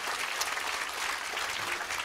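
A talk-concert audience gives a short burst of encouraging applause, dense and steady clapping from a crowd, moderately loud and continuous.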